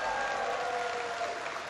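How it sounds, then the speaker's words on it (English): Audience applause fills a hall after a call to honor tour guides at a North Carolina presidential energy event, a steady dense wash of clapping throughout. "Give them a big round of applause."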